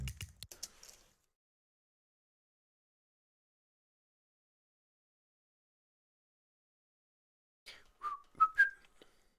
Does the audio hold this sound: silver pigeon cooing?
no